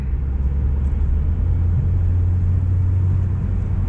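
A 2018 Subaru WRX's engine drones steadily with low rumbling road noise throughout, heard from inside the car while driving.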